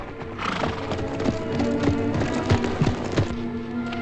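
Several loose horses whinny and neigh while hooves clip-clop steadily across a pasture, close and fairly loud, with no talk over them.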